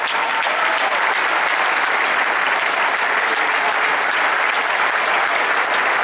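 Audience applause welcomes a folk singing group at a regional gathering in Amposta, a dense, steady burst of clapping from a large crowd that fills the whole stretch without letting up.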